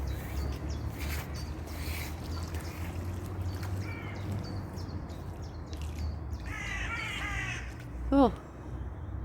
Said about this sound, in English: mighty crows.